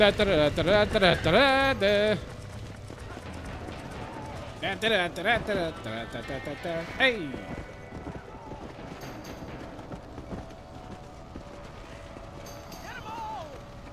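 Rhythmic hoof clip-clop of a galloping horse in Red Dead Redemption with game-style effects, loud at first and fading, while someone talks and exclaims over it.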